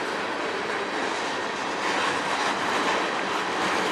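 A freight train on the Strathroy Subdivision rolls past close by, a loud, continuous rumble and rattle of wagons that holds steady throughout with no speech.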